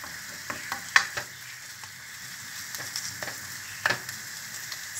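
Tomato sauce filling with kefta meatballs and potatoes sizzles and frys steadily in a pan, with soft stirring scrapes and a few sharper clinks over the constant hiss.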